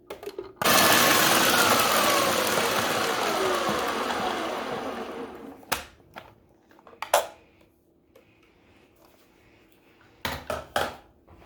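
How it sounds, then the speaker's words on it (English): A food processor whirs steadily for about five seconds, chopping paleo brownie ingredients, then stops; a few short clanks and knocks follow, close and fairly loud with no talk. "let's make the food processor do that work"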